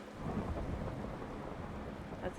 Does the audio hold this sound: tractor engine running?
no